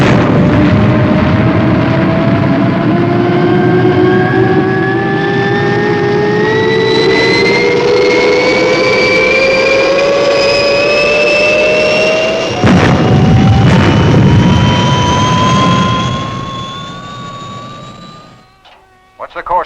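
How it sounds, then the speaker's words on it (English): Fireball XL5 spacecraft jet engines roar at liftoff, a loud rising whine that climbs steadily in pitch over a heavy rumble before cutting off near the end. "Clear for liftoff, Steve."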